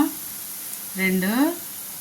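Sarva pindi, a Telangana rice-flour flatbread, fries in a pan with a soft continuous sizzle, briefly overlaid by a voice midway.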